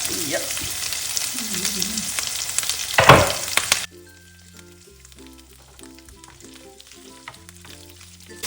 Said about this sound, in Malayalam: ഗീക്കകത്താണ് ഞാൻ നമ്മുടെ പനീറിന്ന് ഫ്രൈ ചെയ്തെടുക്കുന്നത്